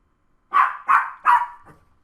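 Three sharp, loud barks from a nearby dog in a quick even rhythm, followed by a softer trailing yelp, heard alone against a quiet room.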